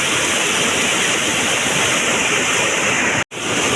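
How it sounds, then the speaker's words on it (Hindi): Floodwater rushes through a village gully in Dholani after heavy rain: a loud, steady, roaring wash of water that continues without a break and cuts out abruptly for a moment near the end. "पूरा गदरे में सारे कैसा पानी जा रहा है, ये देखिए।"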